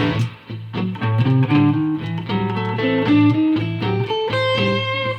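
Electric guitar picking out a bluesy scale line over a steady sustained backing, notes rising and falling at a moderate pace, loud and close.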